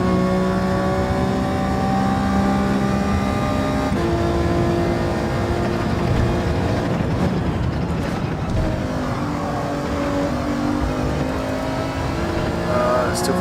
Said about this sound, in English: Kind of sounds like an electric car though.